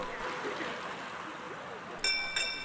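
A bright ringing lap bell sounds twice near the end of a Wednesday night velodrome track race at Dick Lane Velodrome, cutting through a steady wash of crowd and wind noise.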